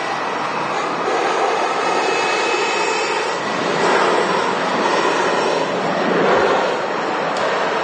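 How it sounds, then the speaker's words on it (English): A KLM Embraer jet rolls along the runway at Manchester Airport after touching down, a steady loud engine roar and rumble that swells slightly in the middle and holds throughout. "here's the KLM Embraer as well. Just greasing the runway there."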